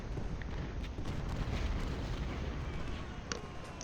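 Distant artillery fire in the Ultimate General: Civil War battle game, a faint, continuous low rumble of cannon with a brief sharper pop near the end, quiet overall.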